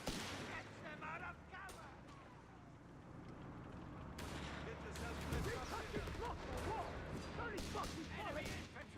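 A Panzerschreck rocket launcher and battlefield gunfire in the WWII strategy game Company of Heroes 3, with repeated sharp shots and booms over constant rumbling combat noise, and voices talking throughout.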